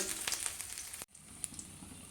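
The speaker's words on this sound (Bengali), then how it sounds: "বড়ি ভাজার পরে এবার আমি বেগুনটাকে ভেজে নেব" Eggplant frying in hot oil in a pan, a steady close sizzle with a brief sharp break midway before the crackle resumes, no talk.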